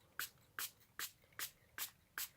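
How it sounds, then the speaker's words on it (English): Six short, evenly spaced bursts from a spray bottle misting colour powders onto a card, each a soft hiss about 0.4 seconds apart, close and fairly quiet with no talk. "And I'll just spray this all over until I'm happy with it."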